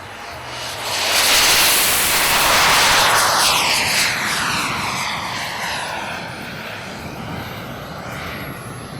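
A model airplane engine whines past overhead, swelling loud then fading as its pitch sweeps downward, leaving a lingering buzz.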